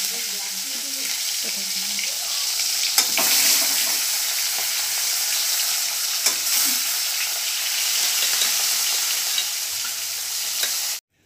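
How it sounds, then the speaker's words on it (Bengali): Bhetki fish pieces fry in hot mustard oil in a wok, a steady loud sizzle running throughout with brief spikes as pieces are added or turned, and no talking. "তেল গরম হয়ে গেছে, এবার আমি এক এক করে মাছগুলো দিয়ে দিচ্ছি।"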